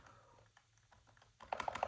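Rapid typing on a computer keyboard to run a Google search, starting faintly and then rising into a burst of close, crisp key clicks near the end, with no voices.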